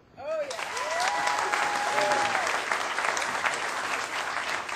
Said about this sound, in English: how many people here by applause have children?